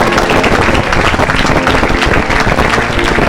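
A church congregation breaks into loud, sustained applause, a dense wash of many hands clapping together without a break.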